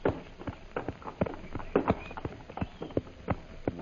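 Horses walking in a cartoon adventure, hooves clip-clopping in a steady, fairly close rhythm of about a dozen footfalls over a few seconds, heard alone without talk.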